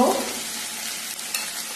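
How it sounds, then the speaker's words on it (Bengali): Ground spices sizzle and fry in a hot pan for a Bengali country-chicken kosha, a steady close hiss with light stirring throughout. "এখন অল্প ভাজা ভাজা করে এখানে আমি দিয়ে দেব"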